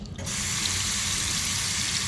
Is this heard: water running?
yes